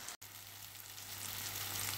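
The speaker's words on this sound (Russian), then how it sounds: "Вот так поместились у меня все котлетки. Вот такие вот симпатичные. То ли котлетки, то ли голубцы. Кто его знает, пусть жарится" Meat cutlets sizzle and fry in a pan, a steady close crackle with a low hum underneath, continuous except for a brief dropout near the start.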